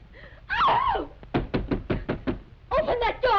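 Knocking on a door in a 1933 adventure film, a rapid run of about seven sharp raps in the middle, framed by raised voices before and after.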